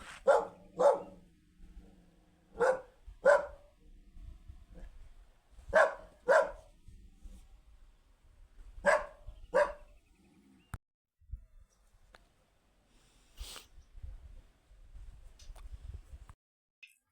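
A dog standing near a doorway outdoors, barking in paired bursts at a steady pace for about ten seconds before falling silent, moderately close, with no talk over it.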